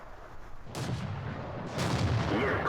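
Tank cannon fire in World of Tanks from a T-34-85 match: two heavy booming shots with sharp onsets, the second louder and rolling longer, set against steady engine rumble with no talk.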